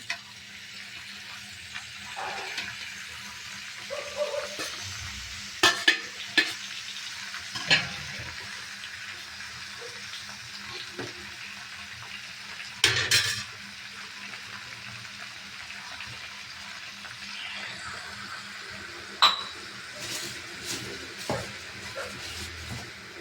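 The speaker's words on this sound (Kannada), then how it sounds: "ಇದಕ್ಕೆ ಮಾವಿನಕಾಯಿ ಹಾಕ್ತಾ ಇದ್ದೇನೆ" Raw mango pieces go into a pan for mango gojju and get stirred, a soft low sizzle under scattered scraping clatters of a spoon against the pan, with a few louder knocks standing out.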